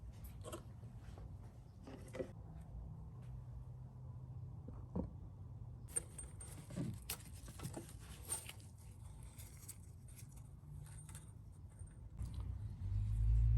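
A 2012–2015 Mercedes-Benz ML350 engine idles as a faint, low steady hum during an oil change, with scattered clicks and handling noises and a louder rumble near the end.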